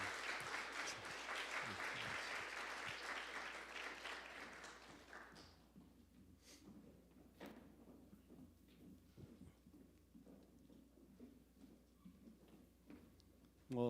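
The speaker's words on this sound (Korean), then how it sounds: "우리 박수로 환영해 주시고 격려해 주시기 바랍니다" A church congregation at a Sunday worship service in New York claps in welcome, dense applause for about five seconds that thins into scattered claps and fades to quiet room tone.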